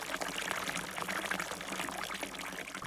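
Water streaming steadily from a boat's outboard motor, a continuous pouring splash with no pauses, close and fairly loud throughout.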